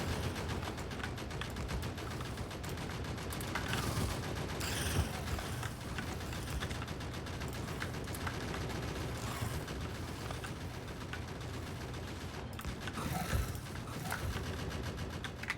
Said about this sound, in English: That's the sound of gunfire in the morning.